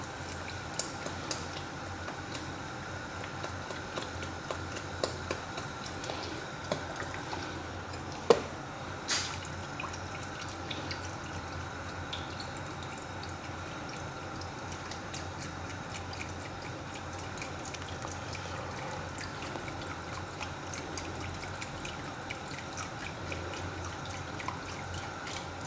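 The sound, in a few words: milk being poured into soup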